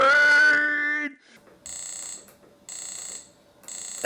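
Electronic beeps from a homemade ATtiny-based console game, with a sustained buzzy tone first, then three short evenly spaced bursts of shrill beeping separated by quiet gaps.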